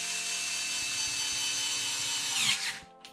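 A WORX WX240 cordless electric screwdriver drives a screw back in with a steady, close motor whine that runs for over two seconds, then winds down and stops.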